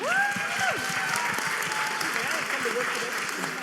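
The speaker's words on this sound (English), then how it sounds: "Y'all clap it up for Shanae." An audience at a live tech careers talk applauds a guest, a steady wash of clapping throughout with a voice calling out over it at the start.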